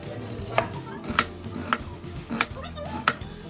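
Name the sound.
chopping onion on a board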